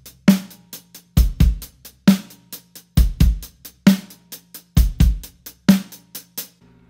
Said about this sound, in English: And therefore you can close the hi-hat to play with the dynamics again.